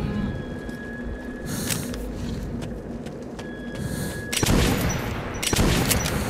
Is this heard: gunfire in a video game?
yes